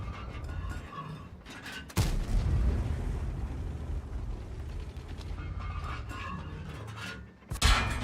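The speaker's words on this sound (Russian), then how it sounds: "нажал на выстрел" Tank cannon firing in the video game World of Tanks, a sudden heavy boom followed by a rumbling mechanical reload tail, with a second sharp shot near the end over a low steady background.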